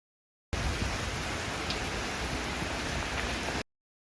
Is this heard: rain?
yes